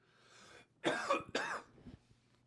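A couple of short, close coughs in quick succession, harsh and throaty, in an otherwise quiet setting.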